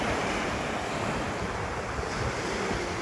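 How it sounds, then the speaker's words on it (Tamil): Strong wind drives sea waves onto the coast near Thoothukudi, making a steady, dense roar of surf and wind noise buffeting the microphone, with no voices. "காற்று கொஞ்சம் அதிகமாக தான் இருக்குது, அதனால் அலையும் கொஞ்சம் கூட தான் இருக்குது"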